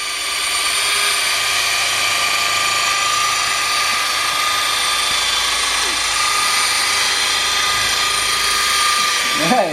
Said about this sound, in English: Matt, turn up the torque on the drill.